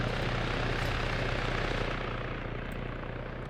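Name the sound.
MH-6 Little Bird helicopter flying in Arma military game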